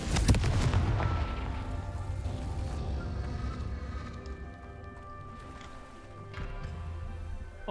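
The Confringo spell exploding in Hogwarts Legacy: a sharp, loud blast at the start decays into a lingering rumble and ringing tones, with a smaller burst later on.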